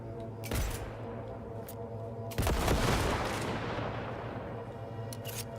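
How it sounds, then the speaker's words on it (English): Sniper rifle gunfire in the Cyberpunk 2077 video game: two loud, sharp reports, the second heavier, ringing out with a long echoing tail over steady background hum. "A sniper rifle."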